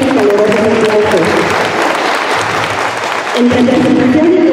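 Sustained applause from an audience at a 2019 preschool closing ceremony, dense and steady throughout, with a voice speaking over it at the start and end.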